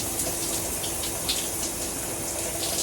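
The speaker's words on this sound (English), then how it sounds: "giving it a good scrub, rinsing, and more rinsing" Water runs steadily from a shower or tap, rinsing shampoo from curly hair, as a continuous close hiss with no break for about three seconds.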